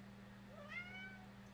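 A cat gives a single rising, whining meow at close range, short and fairly quiet against a steady low hum in the room.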